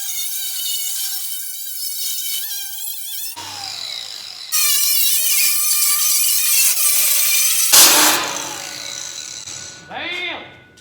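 Sheet metal for a Jeep CJ transmission tunnel is cut with a power tool that gives a loud, high whining screech in several passes, broken by brief pauses and shifts in pitch, ending in a short final burst.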